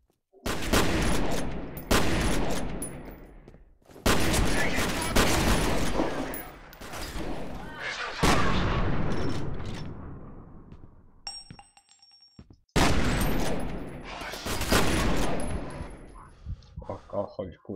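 Shotgun blasts in the first-person shooter FEAR boom in loud, heavy bursts separated by brief pauses, with a few small metallic clinks in a gap between volleys.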